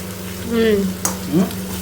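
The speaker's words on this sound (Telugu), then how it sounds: "నీళ్ళు పోయాలి ఇప్పుడు మళ్ళీ." A short hiss and sizzle as water hits a hot pan of prawn curry, with some light stirring.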